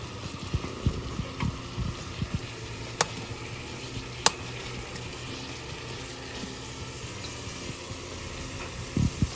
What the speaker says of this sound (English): So we got a good sear going here.